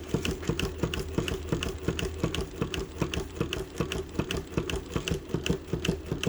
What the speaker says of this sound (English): So the way I'm going to test it is I'm going to stitch a square.